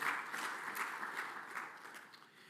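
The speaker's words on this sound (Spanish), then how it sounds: "Démosle un aplauso al Señor en esto" A church congregation applauds for the Lord, a full, even wash of clapping from many hands that slowly eases in level.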